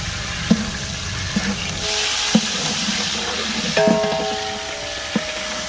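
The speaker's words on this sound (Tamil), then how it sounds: "எண்ணெய் காஞ்சிடுச்சு இஞ்சி பூண்டு போட்டுக்கலாம்" Ginger and garlic fry in hot oil for a large batch of chicken gravy, a steady bubbling sizzle broken by sharp clanks of a ladle against the pot.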